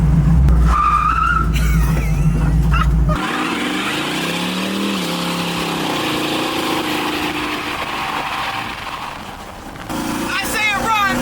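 A revived Ford Mustang engine runs loudly and steadily close by, with a droning rumble and squealing, grinding tones that shift through the clip and a brief burst of voices near the end.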